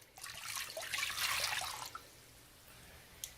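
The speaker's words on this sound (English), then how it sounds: "Into the bowl goes your 2½ teaspoons of dry active yeast, 2 tablespoons of sugar, and the 2 cups of warm water." Warm water poured into a bowl of dry active yeast and sugar, a short splashing pour of about two seconds that tapers off into quiet room tone.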